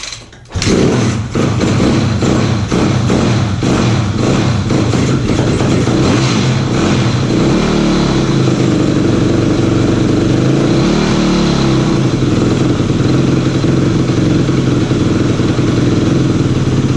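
The engine of a 2005 Yamaha YZ250F dirt bike, just after a carburetor rebuild and a shot of starting fluid, catches with a few sputters and then runs loudly and close at a rough, steady idle, briefly dipping and rising.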